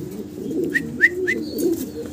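Giant homer pigeons at a pigeon sale give soft, low throaty coos, with a few short higher chirps from nearby birds, close and moderately loud.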